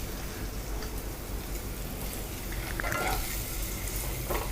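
Eggs sizzling and frying in a pan for an egg masala, a steady dense crackle with occasional faint stirring or spatter, close and continuous with no talking.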